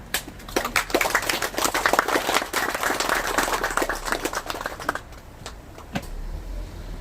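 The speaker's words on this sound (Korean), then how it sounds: "박수 좀 부탁드리겠습니다." Clapping from a modest crowd at a Korean institute's opening and plaque-unveiling ceremony, crisp individual claps forming a lively patter that thins out after five seconds into a few scattered last claps.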